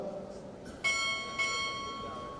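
Two crisp strikes of a ship's bell at a Navy recruit training chief pinning ceremony, ringing tones overlapping as they fade, with faint murmur before the first strike.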